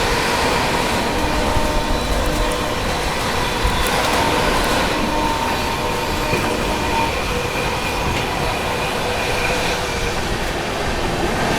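The Chennai Express passenger train from Mumbai CSMT to Chennai Central overtakes another train, heard from on board as a loud, continuous rail rumble with rhythmic wheel clatter and occasional faint squeals.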